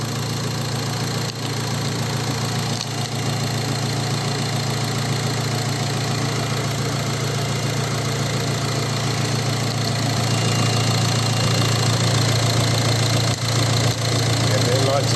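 A Renault Megane engine idles steadily after an oil and air filter service, a constant low hum and rumble with a faint ticking texture, continuous and close for the whole stretch with no talk over it.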